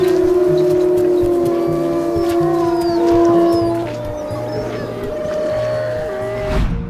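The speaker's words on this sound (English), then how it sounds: "Palettes wouldn't have collectively howled like that in light of such a joyful reunion." Several practically wild dogs howl together at a reunion, loud overlapping long tones held and shifting in pitch, with a steady pulsing background noise beneath.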